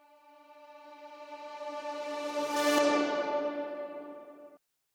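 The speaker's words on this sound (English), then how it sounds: "I also created at the start of the track this little pluck of the leads that reversed and reverbed sound like this." A reversed, reverb-drenched synth pluck lead from a trap production swells steadily from quiet to a bright peak, then cuts off abruptly, a sustained tonal whoosh heard alone.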